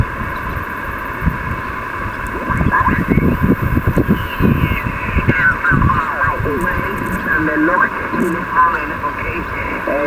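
An amateur radio signal comes in through an antenna on a receiver, with voice transmissions fading in and out through steady hiss, tonal interference and crackling static.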